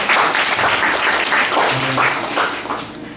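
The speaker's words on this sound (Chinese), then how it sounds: "那我们就热烈掌声来欢迎纪大伟" A lecture audience greets a speaker with loud, continuous applause that tapers slightly toward the end.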